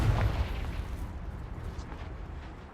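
A Bombarda or Confringo spell explosion in Hogwarts Legacy bursts as one heavy, booming blast at the very start, then fades into a long, rumbling decay.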